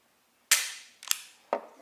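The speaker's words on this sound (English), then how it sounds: "this one has been proven empty, so I'm just going to dry fire it" An empty double-action handgun dry-fired, three sharp metallic clicks spaced about half a second apart, close and crisp against near silence.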